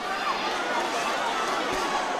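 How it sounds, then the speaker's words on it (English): A boxing arena crowd cheers during a middleweight title fight: a dense, steady roar of many voices and chatter fills the hall without letup, with a commentator's voice faintly mixed in. "These middleweights are giving the crowd something to cheer about."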